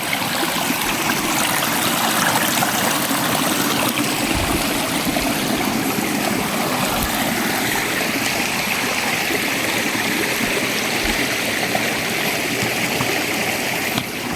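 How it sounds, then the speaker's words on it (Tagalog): A mountain stream rushes and gurgles steadily at close range, a loud continuous wash of water with a few low knocks. "Sapa, sapa."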